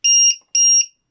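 A LiPo battery low-voltage alarm on an FTX Carnage RC car sounds two sharp, shrill electronic beeps in quick succession, loud and close against silence.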